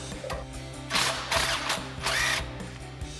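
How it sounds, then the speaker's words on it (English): An impact wrench fitted with an 18mm socket spins out an axle side bolt during a Jeep Wrangler JL suspension lift install, giving three loud whirring, hammering bursts over a steady background hum, with no talking. "take the axle side bolt out, again with our 18mm socket on my impact"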